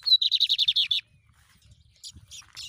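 A female lined seedeater (bigodinho) sings a quick run of about ten bright, clear chirps, then falls silent before a few fainter, scratchier notes return near the end, with soft low bumps in the background.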